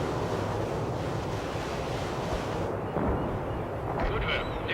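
Artillery fire in the video game World in Conflict rumbles as a dense, continuous roar of distant booming barrages, with no distinct separate shots.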